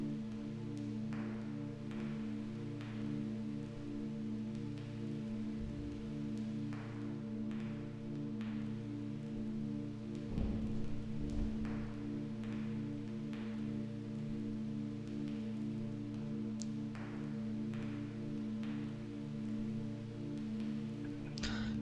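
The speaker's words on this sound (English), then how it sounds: "It sounds like it's raining." Steady soft video game rain patter with scattered droplet ticks over a low, constant hum, fairly quiet and continuous throughout.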